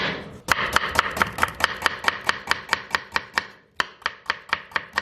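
An onion is finely chopped with a knife on a board for beef karahi, a fast, steady run of sharp, close, loud knocks with a brief pause before the rhythm resumes.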